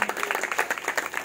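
A church congregation at a Christian meeting in Bhimavaram claps together in praise, producing dense, fast, rhythmic applause that is loud and close throughout.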